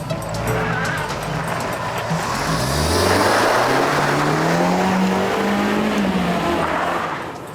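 A car speeds off at high speed, its engine roaring loud and close with a rising pitch as it accelerates away, tires hissing over the road, then the sound fades slightly at the end.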